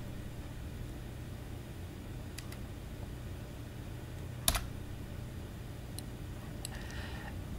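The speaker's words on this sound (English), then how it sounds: "and if you hit the backspace" A single backspace key press on a computer keyboard while deleting a page in Microsoft Word, heard as one sharp, close click midway, with a few faint ticks over a steady low hum.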